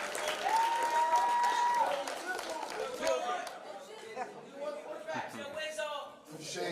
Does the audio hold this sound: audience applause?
yes